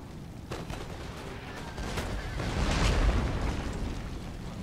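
Cannon volleys rumble in the Empire Total War battle, a dense run of booming artillery blasts that swells and thickens toward the middle, loud and continuous with no talk over it.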